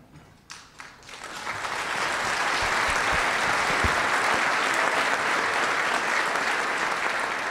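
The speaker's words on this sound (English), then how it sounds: "that was a desired applause line." A few scattered claps open, then a large dinner audience at a policy event breaks into full, sustained applause that swells quickly and holds at a loud, steady level for several seconds.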